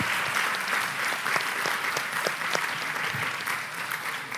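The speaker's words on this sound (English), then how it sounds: "all deserve a big applause." A hall audience applauds at the close of a PhD pitch competition session. The clapping is a continuous, even wash from many hands, moderately distant and fairly soft, with no talk over it.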